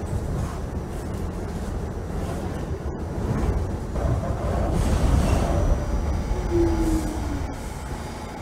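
A New York City subway N train bound for Manhattan rolls along in the Trainz Simulator 2012 game, with a steady low rumble of wheels on rails, a brief wheel squeal midway and a faint whine, all sounding close and continuous.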